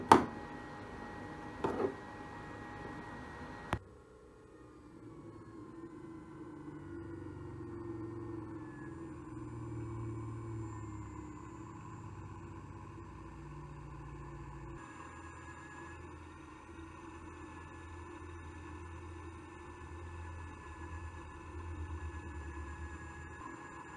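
A 3D-printed drill press with an M35 6mm bit runs against 304 stainless steel, a steady low motor hum and faint tonal whine after a few sharp clicks at the start, close and even throughout, with no speech.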